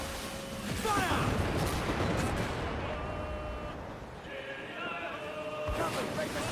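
Naval cannons boom in repeated heavy blasts during a sea battle in Assassin's Creed Black Flag, loud and close over a rumbling battle din, with shouted voices over the gunfire.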